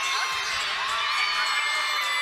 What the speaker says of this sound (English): Well, this crowd is awfully excited.